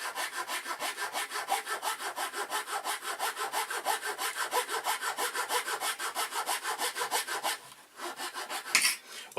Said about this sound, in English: I always use the hacksaw for it.